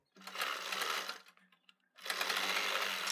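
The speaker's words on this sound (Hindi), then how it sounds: "अपने फ्रंट को हम इसके ऊपर उल्टा रखेंगे और 1/2 इंच के मार्जिन से इस पर हम सिलाई लगा देंगे" A sewing machine stitches the front and back of a kurti together at the shoulder, running in two steady, close whirring bursts separated by a brief pause with light handling noises.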